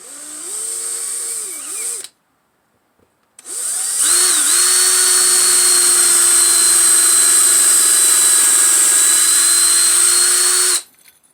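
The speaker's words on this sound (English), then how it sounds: "And drill a nice little hole in here." A power drill whines loudly at close range drilling a pilot hole, a brief burst, a pause, then one long sustained run at steady high pitch before stopping.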